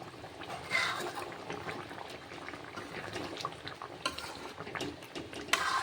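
A lid comes off a pot of chicken kosha simmering on the stove, with a steady bubbling sizzle, soft metallic clinks and a sharper clatter near the end, no voices.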